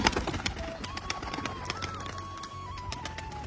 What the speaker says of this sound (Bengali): এই যে ওর ডানার পিটানোর আওয়াজটা একবার তোমরা শোনো।